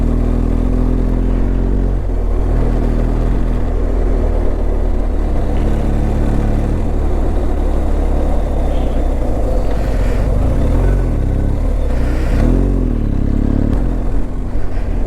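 A BMW R 1250 GS adventure motorcycle rides rough mountain roads in North Sikkim, its engine droning steadily with wind rush throughout and small rises in revs as the rider brakes and shifts gears.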